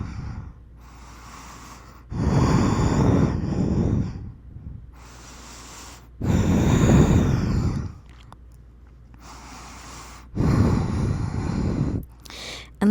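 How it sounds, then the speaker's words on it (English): Deep breathing during a yoga pose, slow loud breaths close to the microphone, each lasting about two seconds with quiet pauses between them. "And just breathe."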